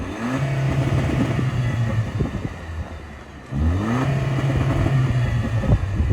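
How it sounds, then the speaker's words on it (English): A 2024 Toyota Land Cruiser hybrid engine revs up twice, rising in pitch with a slightly raspy tone, dropping briefly between the two pulls. "Even if you're like revving it, it has this little like raspy sound to it"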